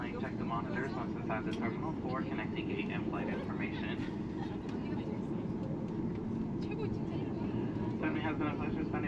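A Southwest Airlines airliner taxis at Baltimore after landing, heard from inside the cabin as a steady, loud engine rumble and broadband roar, with passengers' voices murmuring over it.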